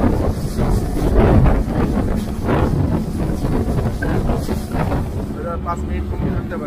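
A speedboat carries passengers toward Hatiya island, a loud, continuous roar of engine and buffeting wind with choppy rises and falls, close to the microphone.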